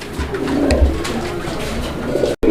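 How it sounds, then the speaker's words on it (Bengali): Pigeons at a wholesale pigeon market coo steadily at close range, with soft layered calls and crowd murmur continuing throughout, without speech. "এখানে চমৎকার আরও এক জোড়া কবুতরের কালেকশন রয়েছে"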